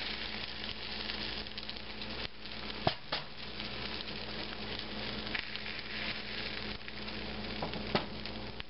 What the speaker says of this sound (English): pour the egg over it.